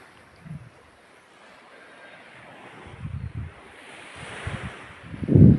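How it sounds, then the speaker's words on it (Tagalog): Rainy, windy outdoor weather gives a soft, constant airy wash broken by low buffeting rumbles of wind against the microphone that grow stronger toward the end, with no one talking. "Medyo maulan po sa ngayon"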